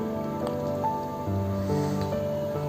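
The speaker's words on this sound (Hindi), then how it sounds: "देखिए आप देख रहे हैं कितनी बारिश हो रही है" Heavy cyclone rain falls outside the Tirupati Balaji temple, a steady patter and drip under sustained tonal music or chanting.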